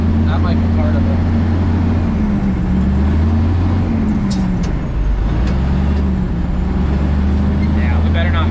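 A manure hauling truck labours in low gear, its engine drone steady and loud throughout, with someone talking over it.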